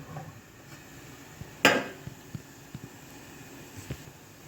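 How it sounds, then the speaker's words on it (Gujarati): The lid lifted off an idli steamer on the gas, a single sharp metallic clank followed by faint knocks and a soft hiss of escaping steam. "આપણે ઢાંકણ ખોલીને જોઈ લઈએ."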